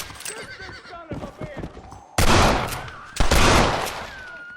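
Two loud, sharp gunshots in Red Dead Redemption ring out close by, each with a long echoing tail, following horse whinnies and hoofbeats, with voices talking before them.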